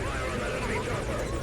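Helicopter in the video game Metal Gear Solid Ground Zeroes, a close, steady rotor chop and engine drone with fast pulsing blades filling the scene continuously.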